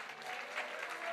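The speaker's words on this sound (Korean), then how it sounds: "박수 박수 할렐루야." A congregation clapping during a Sunday morning church service, a brief, fairly faint wash of applause from many hands.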